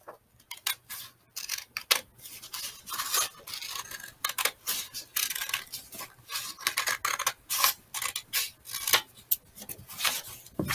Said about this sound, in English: Then we're going to take the scissors and cut along this edge.